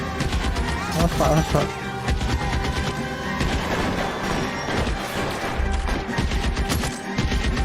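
Gunfire in the L.A. Noire video game: rapid, loud bursts of shots and crashes packed densely throughout, with a brief spoken word in the middle of the barrage.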